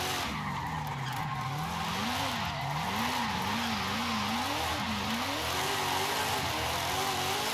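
Tires squeal and slide across tarmac on a V8-powered car in Forza Horizon 5, a continuous loud skid with a wavering, rising and falling pitch over steady engine roar and no talk.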